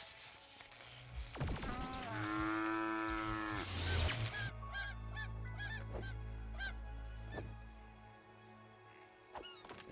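Several cows moo in the video game Craftopia in drawn-out, overlapping calls, one loud and close, others following more quietly in the background.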